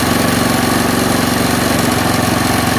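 Close, loud engine of a carbureted Honda Beat scooter with a battery that keeps draining, idling with a steady pulsing chug and gently revved by a little throttle, with no talk.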